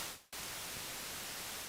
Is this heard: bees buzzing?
no